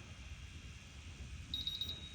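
A handheld gas detector sounds its alarm on an elevated VOC reading during CBRN site characterization training: a quick run of about five high, rapid beeps near the end, faint against a low background hum.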